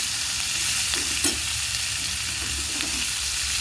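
Onions and green chilies frying together in oil in a pan, a loud continuous sizzle close by with occasional stirring scrapes and no talk.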